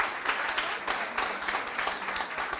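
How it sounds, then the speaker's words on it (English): An audience at a public meeting about a police arrest in Lambeth gives a round of applause, a fairly quiet, scattered patter of clapping from a smallish crowd, continuous and somewhat distant. "let's give a round of applause"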